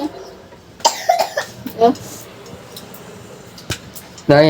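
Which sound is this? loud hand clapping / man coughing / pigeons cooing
man coughing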